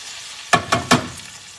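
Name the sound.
chicken sizzling in olive oil and butter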